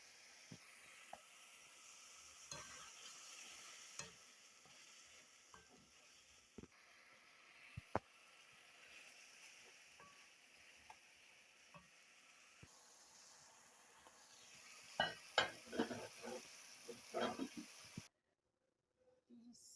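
Shrimp and vegetables frying in a pan make a quiet, steady sizzle, broken by scattered faint clinks and stirring scrapes that grow busier near the end.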